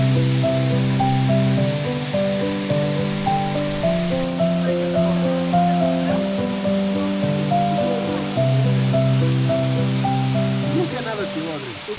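A waterfall on the Rabaçal trail in Madeira rushes as a continuous broad hiss, with a voice talking loudly over it almost the whole time.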